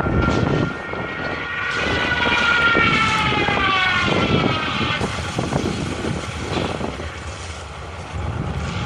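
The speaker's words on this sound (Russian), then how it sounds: "Самолет заходит на позицию" A propeller airplane drones steadily overhead, its engine hum rising and falling with whining tones, loud and continuous throughout.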